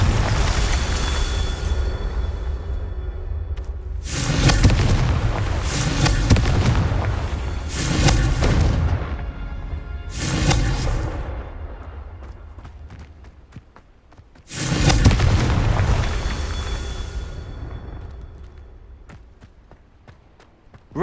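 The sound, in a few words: Confringo fire spell explosions in Hogwarts Legacy video game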